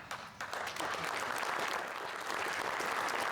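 An audience at the Providence presentation applauds as owner Bill Cawthorn comes up to speak: loud, dense, steady clapping from a crowd that starts at once and carries through without a break.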